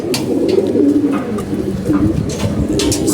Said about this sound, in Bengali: কবুতর সবগুলোই ভালো আছে